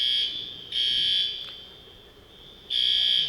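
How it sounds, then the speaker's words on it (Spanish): A seismic earthquake alarm blares a loud, high electronic tone in long pulses, cutting out briefly and then sounding again, with no speech over it. "Esa alarma."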